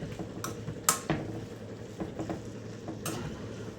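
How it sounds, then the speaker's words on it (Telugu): A spoon stirs fried food in a hot oiled pan on the stove, giving a few sharp metallic clinks and scrapes over a steady low frying sizzle, close and fairly quiet. "ఇప్పుడు కలుపుతాం కొద్దిగా."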